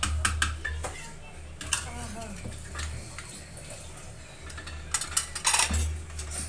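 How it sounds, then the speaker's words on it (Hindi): Milk is poured into a pan in a home kitchen, with a running liquid wash, clinks of metal utensils and a few sharper clatters, while people talk nearby. "दूध डालती हूँ।"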